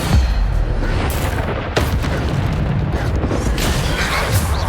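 Spell blast from the Depulso charm in the video game Hogwarts Legacy, a loud booming burst within dense, continuous combat effects.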